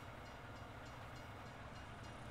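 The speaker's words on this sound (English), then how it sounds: "Yeah, the train is coming again." A train rolling past in Farming Simulator 19, a faint, steady rumble and hiss of wheels on rails with a continuous low drone, heard alone with no talk.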